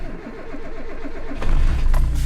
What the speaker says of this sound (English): Fires right up. Now that's a Honda.